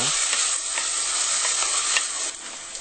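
Bell pepper with salt sweats in a hot pan for Cuban black beans and rice, giving a continuous close, fairly quiet sizzle and hiss broken by a few soft stirring scrapes, with no talking.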